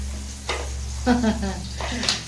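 Banana curry frying in a little oil, with a few soft sizzling bursts and stirring scrapes close by against a low steady hum.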